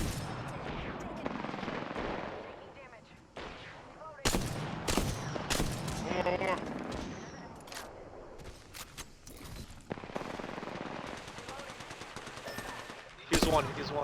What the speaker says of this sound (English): we hear shots in pit